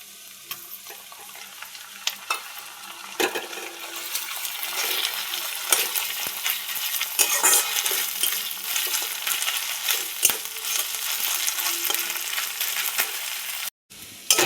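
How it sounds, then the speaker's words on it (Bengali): Ginger-garlic paste frying in hot oil with onions and chillies in a Bengali home kitchen, a steady, loud crackling sizzle with scraping stirs throughout and no talking. "এবার দিয়ে দেবো আদা রসুন বাটা।"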